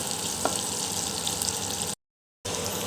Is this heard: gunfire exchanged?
no